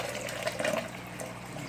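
Aquarium water scooped from a tank trickles into a cup with a hole in the bottom, a quiet, continuous splashing close by with a brief louder gush near the middle.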